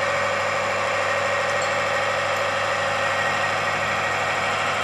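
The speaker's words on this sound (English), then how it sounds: "The load is increased by more than 2 times, and the machine continues to run smoothly." A Timken friction test machine runs with a lubricated ring rotating under a load raised to more than double, giving a steady, loud, even mechanical hum and whine with no change in level and no talking.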